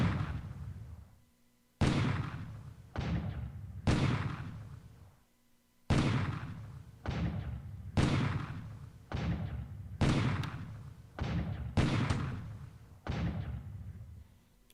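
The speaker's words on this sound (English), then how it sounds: "as cruisers continue to bombard Wenchao, they continue to inflict some limited casualties, port and runway hits" Naval cruisers shell a port in the War in the Pacific strategy game: a series of heavy booming blasts, each decaying into a rumbling tail, about a dozen in irregular succession, loud and close.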